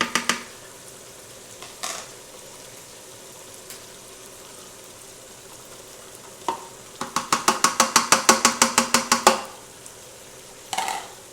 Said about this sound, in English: We want to soften those vegetables, maybe even saute them a little bit.